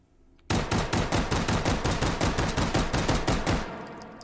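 A Beretta M9A3 pistol in the virtual reality game H3VR fires a fast, even string of loud, close shots for about three seconds after a silent start, then falls quiet.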